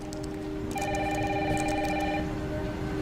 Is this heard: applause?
no